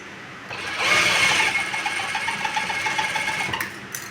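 A sewing machine stitching a salwar runs in a steady, rapid mechanical whir with fine rhythmic clatter, close and fairly loud, starting up and running continuously before stopping near the end.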